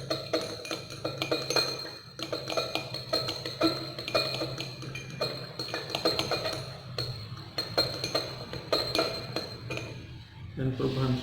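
In a stoichiometry lab, a solution containing 25 ml of H2SO4 is stirred in glassware, producing repeated light glassy clinks and taps at an uneven rhythm, close by, with faint voices in the background.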